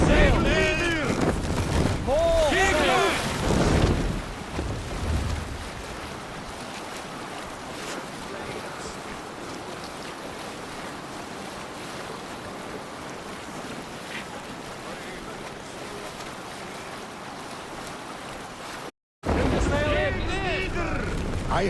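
A Viking longship sailing at sea in Assassin's Creed Valhalla, with steady wind, rushing waves and water against the hull. Voices shout at the start and again near the end.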